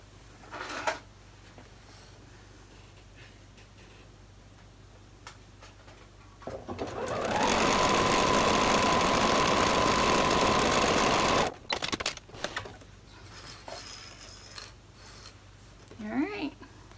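A sewing machine straight-stitches a seam in a single loud, close whirring run of about five seconds, framed by quieter handling clicks and fabric rustle, with a person speaking before and after.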